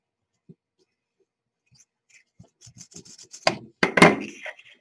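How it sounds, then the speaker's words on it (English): A paper panel being burnished onto a card base with rounded corners for a stand-up easel Valentine card, heard as a few faint scattered taps that build into close, loud rubbing strokes near the end. "Go ahead and burnish it."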